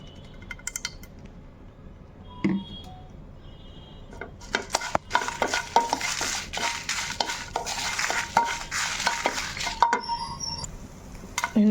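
Fifteen to twenty dried red chillies are fried in a little oil in a pan: quiet clinks at first, then a busy crackling sizzle with repeated stirring and utensil taps against the pan.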